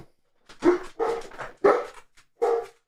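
Dogs barking indoors: four short, loud barks with brief gaps between them, close by and with no talk over them.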